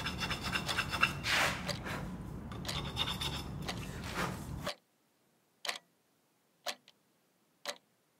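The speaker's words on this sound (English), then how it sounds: "With the nature of this extra hard wood, it took very long to get it sanded smooth." Sanding and rasping an extra hard wood takedown bow riser: about five seconds of steady, close scratchy abrasion. Then silence, broken by three short, isolated scraping strokes spaced about a second apart.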